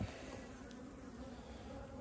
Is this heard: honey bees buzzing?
yes